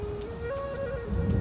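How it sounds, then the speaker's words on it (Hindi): Steady rain falls in a village on a wet day, a soft continuous patter with a thin tonal hum running through it, growing slightly heavier toward the end; no one speaks. "ये बारिश कब रुकेगी पता नहीं।"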